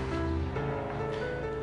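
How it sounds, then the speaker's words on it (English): Warm water running and splashing during a wet shave with TOBS Platinum shaving cream, steady close rushing and sloshing that continues without pause and with no one speaking. "Just warm water. Rinsing most of the soap off."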